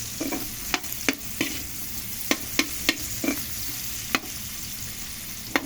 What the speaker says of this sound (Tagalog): Pabanghin lang muna natin guys yung ating ricado bago natin lagay yung ating munggo.